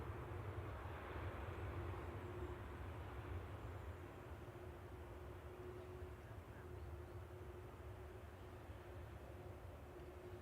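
A Boeing 737-800 airliner arriving at Manchester Airport from Faro, heard as a steady, broad jet roar with a faint tonal whine, continuous and fairly distant, with no voices.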